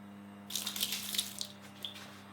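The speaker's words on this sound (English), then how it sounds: "I'll just water down my mud." Water runs from a tap in a steady stream for about a second into drywall mud, then trickles and splashes briefly before fading, over a constant low hum.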